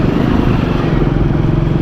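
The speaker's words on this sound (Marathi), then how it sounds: "कारण आताच फटकं मारायला लागली गाडी" A motorcycle running low on petrol on a road near Ujjain, its engine loud, close and continuous with a rough, uneven edge throughout.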